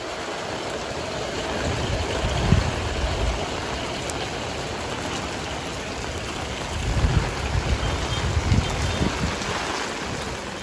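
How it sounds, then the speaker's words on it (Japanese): Heavy rain falls on a Vietnamese town as a continuous, even downpour hiss with some low rumbling swells and no voices. "しばらく雨の音を楽しんでください。"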